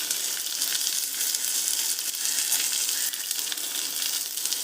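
Small onions and mustard seeds frying in hot oil for a sambar tempering, a steady close sizzle with fine crackling throughout and no talking.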